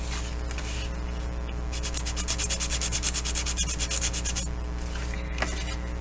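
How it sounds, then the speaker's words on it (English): A nail file roughs up a shiny surface of a small craft folio, giving quick rhythmic rasping strokes in a close, dry scratch that peak in a steady burst midway and quieten at either end. "I'm just going to use a nail file"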